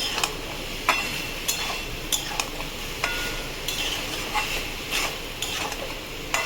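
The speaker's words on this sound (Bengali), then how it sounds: "এবার এটাকে ভালো করে নাড়াচাড়া করে কষবো, যাতে মশলাটা ঢুকে সয়াবিনটার ভেতরে।" Soybean chunks are stir-fried in spice masala, with a low, steady sizzle under repeated sharp scrapes and clicks of a spatula against the pan at a loose, regular pace.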